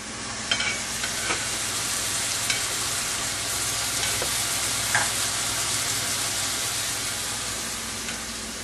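Tomato paste bubbling and sizzling in a pan, a steady close frying hiss with occasional light scrapes and knocks of stirring, and no talk.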